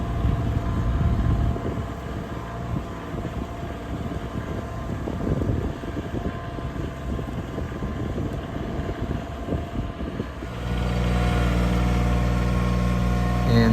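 A tractor engine rumbles steadily nearby with scraping and rattling of dragged branches underneath, then the engine tone grows louder and smoother toward the end.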